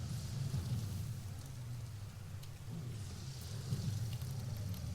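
Call Lightning spell in a druid fantasy game, a steady rain wash with low rumbling thunder swelling around the middle and again near the end, heard alone without voices.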